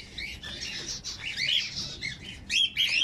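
Pedigree pigeons squawking and calling in short, busy bursts, several overlapping, fairly close, with a louder flurry near the end.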